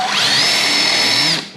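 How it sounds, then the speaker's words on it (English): A power drill runs at steady high speed, boring a hole into wood in one loud, continuous burst that fades out at the end, with no talking. "So drill a couple of holes there."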